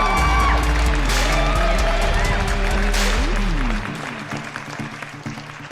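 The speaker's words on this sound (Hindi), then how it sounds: "मगर पहले उस शख्स के लिए ताली जो विपुल वायरल के नाम से मशहूर है।" Audience applause and cheering at a stand-up comedy show, a loud dense wash of clapping with whoops and music underneath that drops off sharply after about four seconds, leaving quieter crowd noise.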